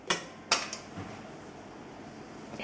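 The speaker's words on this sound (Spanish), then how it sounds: "Echamos la cucharadita de azúcar vainillada" A metal spoon clinks against a mixing bowl while vanilla sugar goes into muffin batter: two or three quick, bright taps close by, then a quiet kitchen background.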